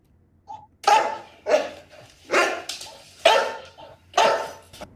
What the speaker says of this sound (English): let's say we start with a dog barking.